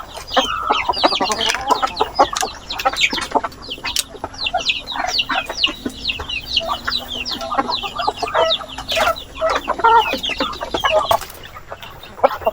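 Chickens cluck and squawk throughout on a small mini farm, with a dense, busy chorus of overlapping calls close by, some louder bursts standing out, and no talking.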